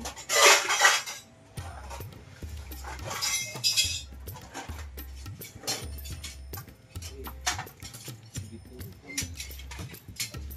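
Plates and spoons clatter and clink together in a loud burst, followed by scattered lighter taps and chinks of dishware over a low hum, close by with no clear talk.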